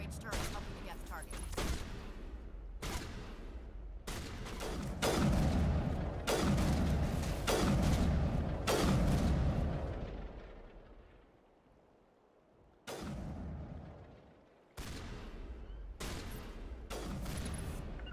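Heavy gunfire and crossfire in the video game Mass Effect, with repeated loud booming bursts and volleys that rumble and fade, a quieter lull, then more sharp blasts.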